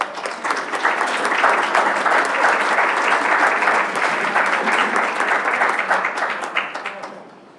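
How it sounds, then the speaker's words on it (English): Sustained audience applause for a child named Eli at a city board of education business meeting, a dense steady patter of many hands clapping for several seconds before tapering off at the end. "let's give Eli a round of applause"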